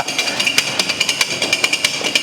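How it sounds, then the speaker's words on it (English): Yorkshire pudding batter whisked fast by hand in a bowl, a quick steady run of sharp metallic clicks and taps close by, with no talking. "The speed I'm whipping here, we won't need to worry if there's any lumps in it"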